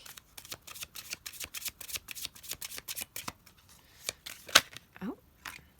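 Rapid, crisp riffling and slapping of tarot cards being shuffled, repeated in quick bursts, close by, with a few soft thumps and brief pauses near the end.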